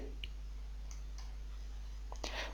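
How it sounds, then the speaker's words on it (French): A single computer mouse click selects an OK button, a short, faint tick near the start over a steady low hum, with a few more small clicks toward the end. "Je clique sur OK."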